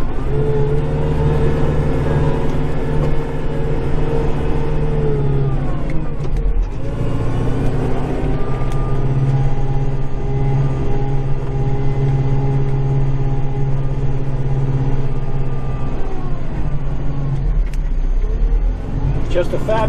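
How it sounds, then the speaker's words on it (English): A tractor's diesel engine runs steadily at close range during night-time snow clearing in winter, a constant low rumble with a brief dip and surge in revs, carrying on throughout. "Just a fabulous tractor. I love this tractor."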